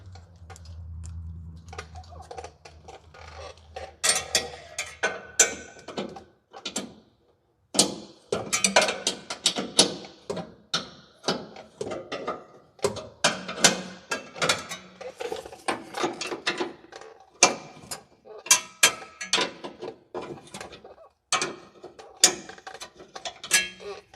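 An open-end wrench works bolts on a vehicle's suspension during an air bag upgrade, giving quick irregular metallic clicks and ratcheting taps in bursts. The taps come close up, separated by short pauses, after a low hum at the start.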